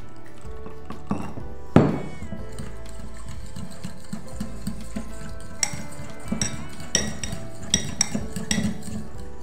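Spoon stirring a sauce of mustard, mayonnaise, a splash of milk and Worcestershire sauce in a bowl, with light scraping and clinks of utensil against the dish, one sharper knock early on, close and quiet.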